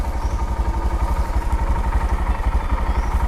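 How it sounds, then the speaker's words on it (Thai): Honda Monkey clutch motorcycle engine running steadily with a throbbing mid-pitched exhaust pulse while the rider changes gears, loud and close with no talking. "เปลี่ยนเกียร์ ปล่อยคันเร่ง นั่นแหละ รถมันจะไวขึ้นนะ"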